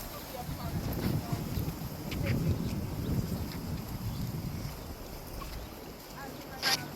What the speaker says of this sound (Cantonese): 聽下啲風聲、